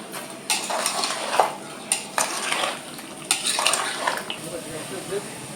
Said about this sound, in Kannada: ಒಗ್ಗರಣೆ ಕೊಡಬೇಕು.